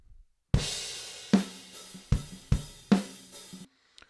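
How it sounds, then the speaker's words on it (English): A raw, unprocessed acoustic drum kit recorded through linear preamps plays a simple groove: punchy kick and snare hits with washy cymbals, dry and natural with room ambience, then stops. "if your drums sound like this, completely raw"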